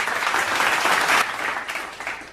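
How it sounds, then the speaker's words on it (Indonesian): Audience applause at a parenting class session, a steady burst of clapping from a group of mothers lasting about two seconds, dense and fairly loud with a slight dip midway. "kita kasih tepuk tangan untuk Ibu Aisyah."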